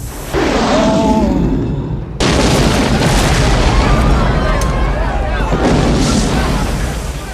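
A loud, booming cinematic explosion followed by a sustained roaring rumble and debris noise, with voices faintly mixed in.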